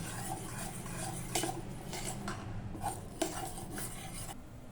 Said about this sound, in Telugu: ఈ విధంగా బాగా ఇలా బీట్ చేసుకోండి